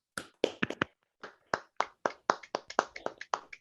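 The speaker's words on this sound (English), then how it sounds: "could we just give Paul a nice round of applause and thank him for his time" Sparse, distinct handclaps from a few online summit participants with microphones on, irregular and fairly close, rising into a quicker scattered patter.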